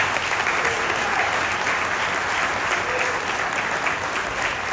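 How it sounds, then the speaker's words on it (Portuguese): A crowd at a political party event applauds women pre-candidates for office with a dense, steady roar of clapping that stays loud and even throughout, with faint voices mixed beneath it. "Palmas para elas."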